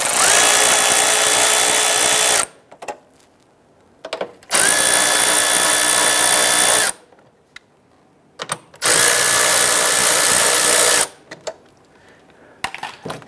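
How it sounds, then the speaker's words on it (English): Power tool with a 10 mm socket loosening the grille mounting bolts on a 2005-2010 Chrysler 300 front bumper cover, three long loud whirring runs of about two seconds each, separated by quiet gaps with small clicks, close up. "Using our 10 millimeter socket, wanna go ahead and loosen these here."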